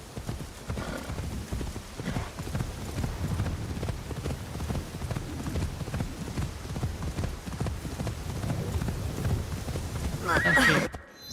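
Steady clip-clop of video game horse hooves at a brisk rhythm, with a horse neighing near the end; close and fairly loud, no talk.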